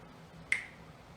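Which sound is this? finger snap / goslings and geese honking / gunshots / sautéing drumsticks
finger snap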